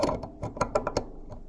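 A Craftsman ratchet being worked on to remove a snap ring gives a quick series of sharp metallic clicks and ratcheting snaps, close and distinct, about six in a second and a half.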